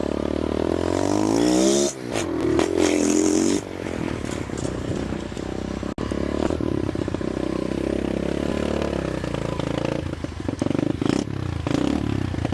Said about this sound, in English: Oh yeah. She runs awesome.